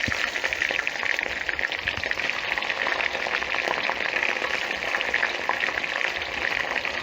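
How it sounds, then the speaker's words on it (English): Steady, dense sizzling and crackling of prawns frying in hot oil, loud and close, with no talking. "then we continue frying till we finish all the prawns"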